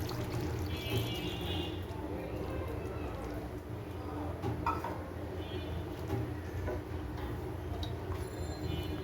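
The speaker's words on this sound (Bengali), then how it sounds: "এখানে আমি 2 কাপ দুধ জাল করে নিয়েছি আগে থেকেই, কুসুম গরম অবস্থায় আছে। এখন এটাকে দিয়ে দিচ্ছি।" Two cups of warm milk are poured into a pot of chicken soup, making a steady, continuous liquid pour that runs for the whole stretch over a constant low background hum, with a voice talking at times.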